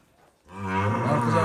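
A cow with her calf at a cattle market lets out one long, loud moo that swells after a short quiet moment and holds steady to the end.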